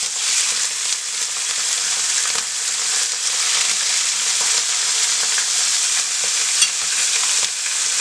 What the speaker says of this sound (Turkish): Çok harlı bir ateşte tavuklarımızı kızartıyoruz